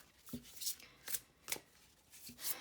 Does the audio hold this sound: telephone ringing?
no